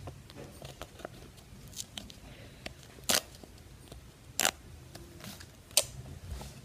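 Monopoly cards ripped by hand: three sharp, brief tearing bursts spaced a second or so apart, set among small, quiet paper-handling clicks and rustles.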